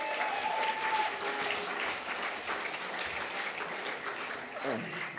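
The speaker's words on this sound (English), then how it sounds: "big round of applause" An audience applauds at a First Nations media awards ceremony, sustained dense clapping at moderate distance with a voice briefly audible over it.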